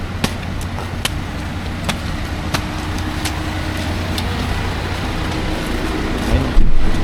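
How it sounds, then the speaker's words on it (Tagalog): A tour van heading to Coron Eco Lodge rolls along with a steady, even engine and road hum, sharp ticks and knocks from inside the cabin scattered through it, and a louder thump near the end. "So, ito yung van natin."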